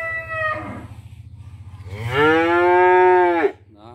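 On a Ben Tre cattle farm, a cow lets out a loud, close moo. It starts with a low rumbling grunt, then swells into a long, full bellow before breaking off.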